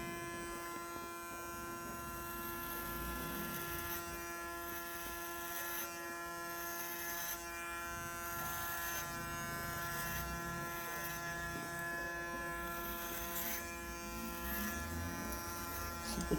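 Electric hair clippers buzz steadily while cutting a short sports haircut at a barber school, a close, continuous motor hum with slight shifts in pitch as the blades move through the hair; nobody speaks.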